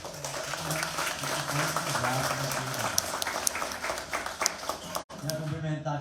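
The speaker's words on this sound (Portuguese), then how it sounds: "uma salva de palmas aqui também para os diretores," Audience applause at the launch of a municipal book fair and reading programme, many hands clapping steadily with a voice speaking over it before a sudden break near the end.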